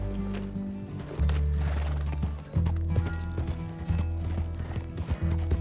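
Horse hooves pound in a quick galloping rhythm alongside rattling, clanking mechanical sounds and low tonal hums, loud and close, in the video game Red Dead Redemption 2.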